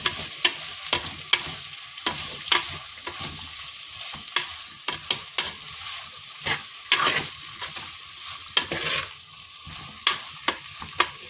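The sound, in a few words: tomatoes and onions stirred and frying in a pan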